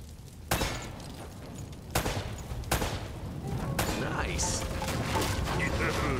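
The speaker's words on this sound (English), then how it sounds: "Try shooting one of those lamps down." Gunfire shooting at hanging lamps in the PS4 game Uncharted: Drake's Fortune: a few sharp, loud shots spaced apart, then a denser wash of crackling noise and clatter toward the end.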